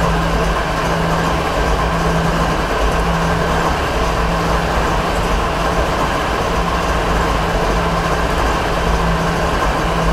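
Steady, loud rumble of a train running in Train Simulator 2015, a continuous rolling drone with a low engine hum that holds evenly throughout, with no talking.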